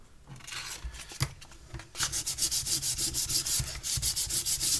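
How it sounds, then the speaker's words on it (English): A part of a 1/84 HMS Victory model ship gets a light sanding, heard as close, rhythmic scratchy strokes that start sparse and then settle into a steady back-and-forth rubbing. "So first I'm just going to get a slight sand."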